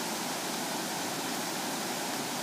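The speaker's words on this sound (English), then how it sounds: "now let's create that wave action that just disrupted the boom" Water rushes and sloshes steadily in a small oil trap demonstration tank as waves are stirred up, a continuous close hiss with no voices.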